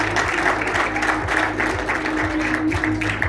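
Steady applause from a crowd at an endurance riding awards podium, a dense continuous patter of many hands at moderate distance with a faint tonal hum beneath, holding evenly throughout.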